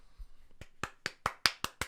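Sparse claps from a small audience, about seven sharp hand claps in a loose, slowing rhythm, fairly close and distinct against near silence.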